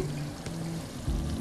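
Yogurt poured from a cup into a chickpea curry masala in a home kitchen, a short soft glugging pour with a slight splash near the end, heard close and alone.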